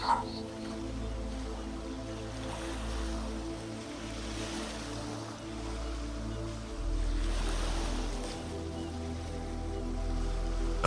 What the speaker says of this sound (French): Observez les vagues qui dansent doucement devant vous.